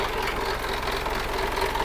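A car engine idles steadily at close range after a costly overhaul that left it running worse, with a continuous even rumble and no voices over it.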